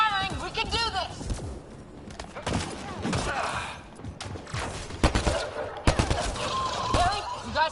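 Rapid bursts of weapon fire in the Mass Effect Andromeda video game, sharp cracks and volleys at moderate loudness under frequent shouted character dialogue.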